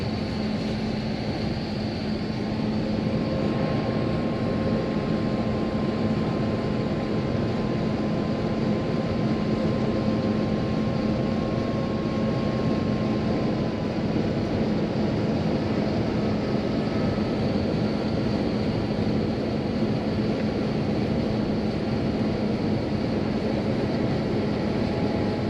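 Cabin noise aboard an Airbus A350-1000 on a night flight, a steady, loud engine and airflow roar with a low constant hum throughout, no talking.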